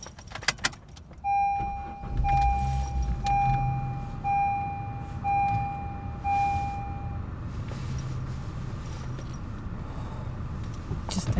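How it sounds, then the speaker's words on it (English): A car is started on a frigid morning around -7 degrees, with keys jangling at first and a steady tonal chime ringing for several seconds over the low engine rumble, no talking. "I'm turning my car on."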